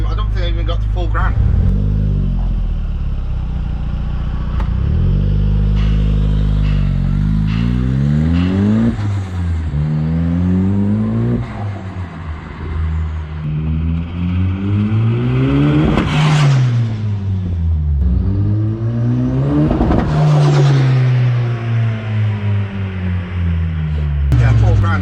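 A Toyota MR-S fitted with a VAG 1.8 20V turbo engine revs and drives, its loud, close engine note climbing and falling through repeated gear pulls. Voices talk over it throughout.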